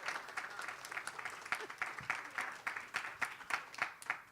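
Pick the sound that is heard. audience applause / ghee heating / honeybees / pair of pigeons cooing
audience applause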